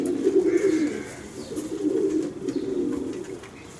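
A racing pigeon of the Cordeheide line cooing, a low throaty warble repeated in soft rolling phrases, close and alone with faint background noise.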